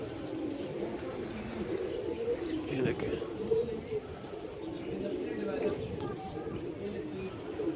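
Pigeons coo near a rooftop loft, low soft calls and faint chirps repeating beneath someone speaking Hindi/Urdu, with light background noise throughout.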